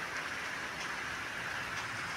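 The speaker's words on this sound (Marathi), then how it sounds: "पाऊस कमी झाला वाटतोय थोडा" Steady, soft rain that is easing off makes an even, close patter across the whole stretch, with no voices.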